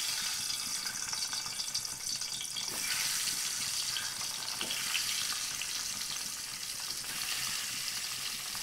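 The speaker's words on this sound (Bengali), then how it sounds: "তো ডিম ভাজি শুরু করলাম।" Eggs fry in hot oil in a pan with a continuous, close crackling sizzle and a few louder spits, with no talking.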